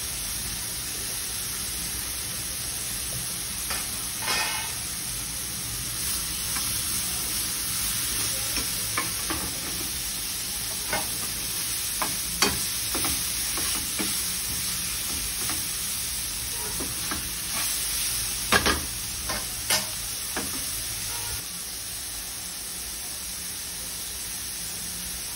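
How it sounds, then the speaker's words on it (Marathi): Cabbage and capsicum stir-fried in a hot pan, a steady close sizzle with scattered clicks and scrapes of stirring running throughout, no voices. "कोबी टाकलं, शिमला मिरची, हे सगळं छान परतून घेणार आहे मी"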